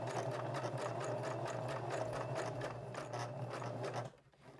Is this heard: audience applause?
no